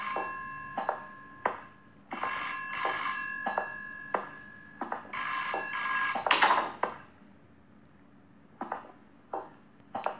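In the horror game Headaches, a telephone bell rings in two loud, bright bursts with a short gap between them, then stops, leaving only soft thuds and clicks that fade into near silence.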